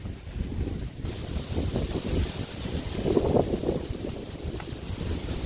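Strong wind roars across a Pennsylvania disc golf course, a loud, gusty buffeting that batters the microphone steadily throughout with no talk.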